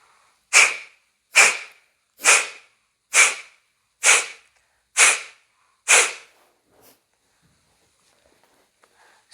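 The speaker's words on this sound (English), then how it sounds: "Kapalbhati has a quick and forced exhale" Seven quick, forceful Kapalbhati breathing exhales puff out through the nose in an even rhythm about one per second, close and sharp, followed by near silence.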